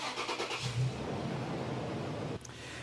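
A vehicle fitted with an exhaust gas analyzer during a catalytic converter check cranks and starts, its engine settling into a steady close idle with a brief shift near the end.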